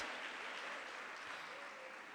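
A round of applause from the audience at a career expo: a soft, distant wash of clapping, steady and faint, with no voices on top.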